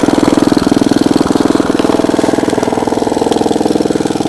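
Small single-cylinder engine of a 1950s Bready model BW walk-behind tractor running steadily just after a cold start with the choke opened, a loud, close, even rapid chugging throughout.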